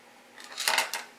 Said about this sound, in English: So I think we'll just kind of cut along this pocket.